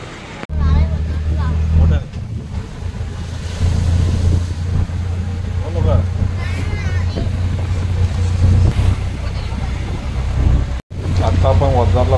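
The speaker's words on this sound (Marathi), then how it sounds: "आता आपण वडगावला जाण्यासाठी रिक्षा पकडली आहे सावंतवाडी स्टेशनवरून." Auto rickshaw ride from Sawantwadi station toward Vadgaon, a loud buzzing engine drone and road rumble running throughout, with people talking over it and a brief cut partway through.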